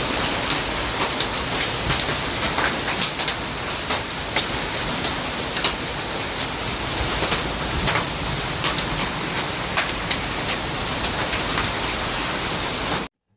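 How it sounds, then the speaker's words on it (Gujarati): Heavy monsoon rain in the Vansda area of Gujarat pours down as a dense, loud, unbroken roar with scattered sharper drop impacts. No thunder stands out, and the downpour cuts off abruptly at the end. "ખૂબ જ પવન સાથે અને ગાજવીજ સાથે વરસાદ એટલે કે ચોમાસાનું આગમન થઈ ચૂક્યું છે"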